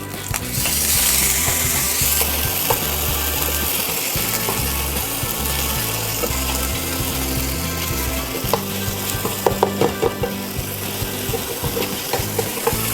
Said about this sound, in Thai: ขั่วให้มันข้าวแห้งเลยนะ